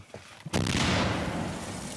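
After a few soft knocks, a single heavy boom of Ukrainian artillery fire bursts out and rolls on as a long, noisy rumble.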